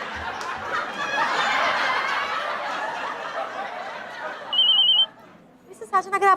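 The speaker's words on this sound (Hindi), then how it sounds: "मिस्टर साजन, अगर आपको आंसर नहीं करना है उस फोन को, जस्ट स्विच इट ऑफ" A telephone gives a single short, high electronic ring near the end, cutting through a busy mix of people chattering and laughing that fills most of the stretch.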